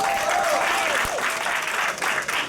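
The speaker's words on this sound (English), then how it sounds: "you can give him a round of applause" An audience at an Africa gala applauds after a speech announces President Barack Obama, a dense, sustained wash of clapping filling the room, with faint voices beneath it.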